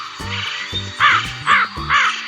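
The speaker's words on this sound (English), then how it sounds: "The crow is a bird of black color." A crow gives three sharp, loud caws in quick succession, preceded by a fainter call, all set against continuous background music.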